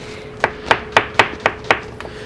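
A knife chopping celery into big pieces on a board while braising lamb shanks, six crisp, evenly spaced thuds about a quarter second apart, close and distinct against a quiet kitchen background.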